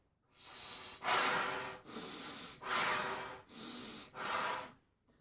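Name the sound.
deep breathing in and blowing out air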